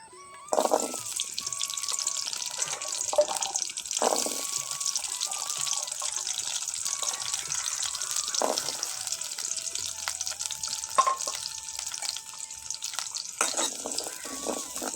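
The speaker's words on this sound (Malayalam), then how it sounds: "നമുക്ക് ഇതിലേക്കുള്ള ചെറിയ ഉള്ളി ഒന്ന് വാട്ടിയെടുക്കണം." Small shallots sauté in a pan with a steady, bright sizzle lasting throughout, while faint whistling tones and occasional clinks sound in the background.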